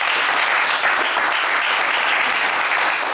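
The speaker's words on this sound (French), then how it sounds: "On vous applaudit bien fort." A studio audience on a French television game show applauds steadily, a dense and even wash of clapping from start to finish.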